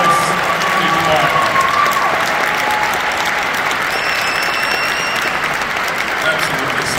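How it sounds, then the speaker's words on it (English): An audience at a gospel music performance gives loud, sustained applause with some cheering, dense and even throughout, while a few voices come through over the clapping. "One more round of applause for my squad."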